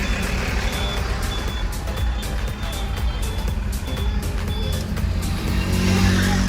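On a road heading toward Vambori, a car drives along with a steady engine and road rumble, while a repeated high beeping sounds at regular intervals over the continuous traffic noise.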